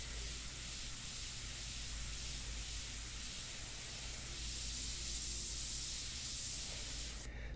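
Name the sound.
airbrush spraying India ink on paper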